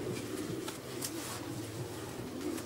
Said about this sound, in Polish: bardzo ładnej budowy gołąbek jest ułożony w ręce tutaj